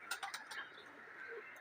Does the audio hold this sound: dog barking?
no